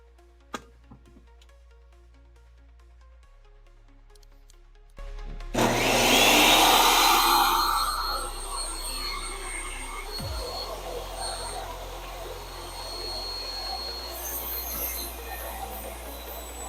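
A table saw set to a quarter-inch blade height cuts a groove into planter wood, starting abruptly after a quiet moment with a loud spin-up and harsh roar, then easing into a steadier hum as the cut continues. The sound is close and solitary.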